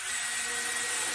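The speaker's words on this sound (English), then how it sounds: "I'm also using my DeWalt 12 volt drill" A DeWalt 12 volt drill driving screws into 2x4 lumber in a bicycle workshop, a continuous close whirring motor hum held steady without pause.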